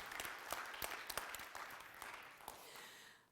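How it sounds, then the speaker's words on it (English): Applause from an audience at a startup launch event honoring sponsors and founders, a dense wash of clapping with a few sharper nearby claps, steady and loud before fading out at the end. "Great round of applause for all of these amazing sponsors and founders"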